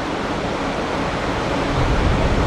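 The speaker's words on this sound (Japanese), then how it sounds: "川なんだ。" A river rushes by in a steady, dense wash of flowing water, continuous and fairly loud with a slight swell toward the end and no voices.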